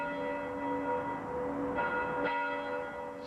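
Church bells, seven in a memorial for the Columbia shuttle crew, ring out with clear, sustained metallic tones, a couple of fresh strikes layering over the lingering hum, moderately distant.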